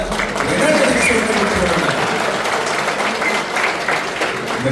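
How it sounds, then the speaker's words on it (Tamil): Audience applauding for singers at a mall opening, a sustained wash of clapping from a crowd that swells early and then holds steady, with a voice speaking over it. "இவர்களுக்கு நீங்க தனியான கரகோஷம் முதல் கொடுக்க வேண்டும்"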